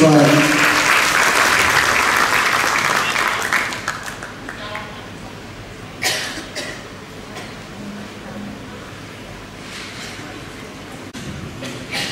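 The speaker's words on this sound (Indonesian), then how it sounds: "Mari kita berikan aplaus." Audience at a regional assembly meeting with the vice governor in attendance claps loudly for a few seconds, then the applause fades, leaving scattered claps and room noise.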